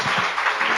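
Worshippers at a church youth service applaud in praise, a brief wash of dense, steady clapping from a crowd with no pause in it.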